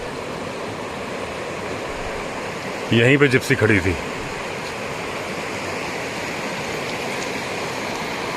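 A jungle river after a night flood rushes loudly and steadily as it cuts into and erodes its bank near Rajaji National Park, a constant roar with a short spoken phrase over it partway through.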